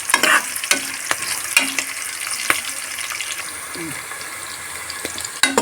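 Onions frying in a pressure cooker for bachelor-style mutton biryani, stirred now and then with sharp spoon clicks and scrapes over a light sizzle, close and clear.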